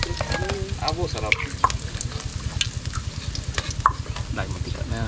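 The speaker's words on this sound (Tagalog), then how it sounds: "Deep fry." Food deep frying in oil sizzles with a steady crackling hiss and rapid bubbling, close and continuous, with stirring clatter layered over the top.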